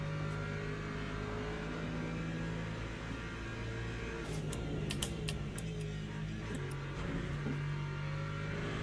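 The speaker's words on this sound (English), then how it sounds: "there's another hypercar coming through." Hypercar in Le Mans Ultimate sim racing, a steady loud engine drone throughout with a faster car surging past midway, its higher whine rising over the continuous racing engine noise.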